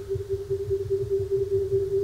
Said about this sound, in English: are the sounds of stars, nebulas, other parts of deep space recorded by scientists